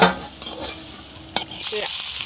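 Potato patties sizzle and crackle in hot oil while a utensil turns them and scrapes the pan, with a brighter burst of frying near the end.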